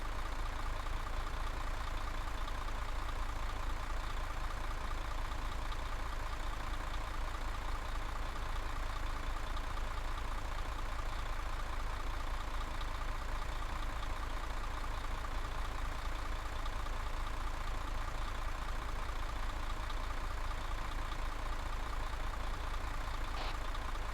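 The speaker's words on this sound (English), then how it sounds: "Driver, you still in? Can you turn the engine off?" Military truck engine idling in the Arma 3 game during a night convoy: a steady, unchanging low rumble runs throughout at moderate level, with no talk.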